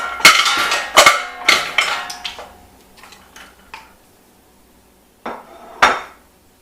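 Pieces of beef foot dropped into a metal cooking pot for okazi and waterleaf soup, a series of loud close clanks and thuds in quick succession, then a pause before two more knocks.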